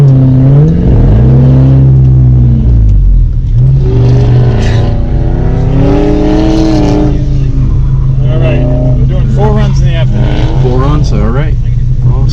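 A Honda S2000 on an autocross lap revs hard, its engine pitch climbing and falling through gear changes, loud and close from inside the car, with a person talking over the engine throughout.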